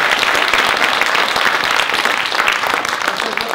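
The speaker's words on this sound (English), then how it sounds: "let's give a nice round of applause to our student presenters" A college faculty showcase audience gives student presenters a round of applause, loud dense clapping that holds steady from start to finish.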